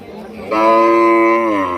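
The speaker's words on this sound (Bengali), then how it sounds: "এই সাদা গরুটা কয় দাঁত" A cow at a busy cattle market in Rajshahi lets out one loud, sustained moo of more than a second, close to the listener and carrying over low background crowd noise.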